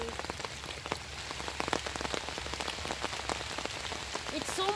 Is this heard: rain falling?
yes